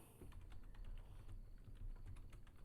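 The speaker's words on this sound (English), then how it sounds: "I'm typing it out." Someone types on a computer keyboard, producing a rapid, uneven stream of soft, faint key clicks that continues steadily, with no talking.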